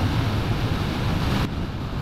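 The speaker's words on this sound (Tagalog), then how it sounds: "Pero ang lakas talaga ng hangin." Strong wind roars by the sea, heard from a motorcycle rider's position on a coastal road, a steady loud rush of broadband noise that drops a little near the end, with no voices.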